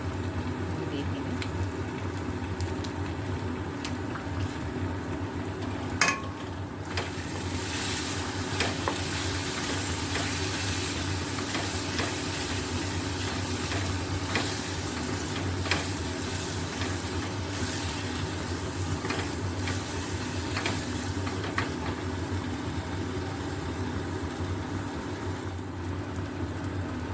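Kashmiri chilli masala fries in oil for palak paneer, a steady close sizzle with scraping stir strokes and occasional clinks running throughout, no voices.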